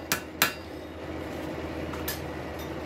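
A hammer strikes a rail spike on an anvil, three sharp ringing metallic blows, two in quick succession and a third after a pause, close by over a faint background hum.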